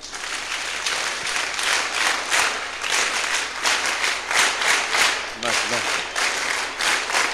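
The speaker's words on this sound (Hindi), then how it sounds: "इसीलिए इसके लिए एक बार और फिर तालियां।" Audience applause at a live event: sustained clapping from a large crowd in a hall, steady and dense, swelling in waves throughout with a brief dip near the end.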